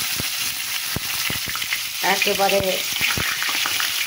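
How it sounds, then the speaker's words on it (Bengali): Shrivelled, overripe pointed gourds (potol) frying in oil with cumin and black cumin, a steady close sizzle with stirring scrapes, and a voice speaking briefly over it. "এবার কাঁচা পাকা বয়স্ক কুচকে যাওয়া পটলগুলো দিয়ে দিলাম"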